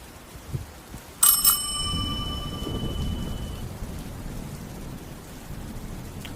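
A bell rings once, bright and sharp, then fades over a steady wash of rain and low rumbling thunder, a spooky sound effect set at an abandoned factory at night.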